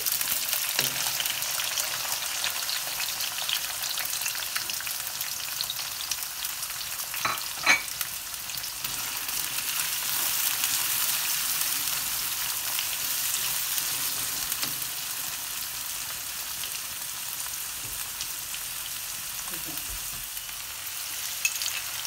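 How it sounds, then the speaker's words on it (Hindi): Chopped onions frying for mutton karahi give a steady, even sizzle throughout, with a few brief clinks and scrapes of a utensil stirring in the pan and no voices. "अब जाएंगे हमारे चप्ड अनियन"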